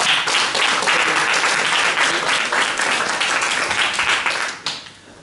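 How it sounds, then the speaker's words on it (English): A crowd at a public talk applauds a speaker named Adam, loud continuous clapping held for several seconds that fades out at the end. "Give a round of applause for Adam."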